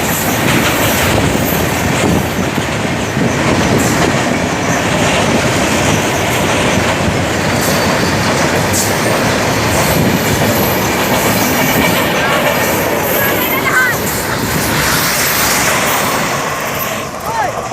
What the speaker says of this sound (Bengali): ইতিমধ্যে আমাদের ট্রেন চলে গেল